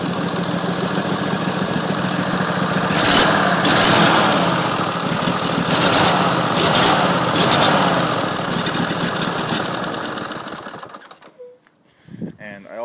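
A cold race car engine starts with a loud, rough, rapid idle, revving up in several bursts before settling and shutting off; voices are faintly present at the end.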